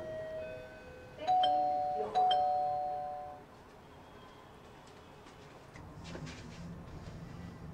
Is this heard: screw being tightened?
no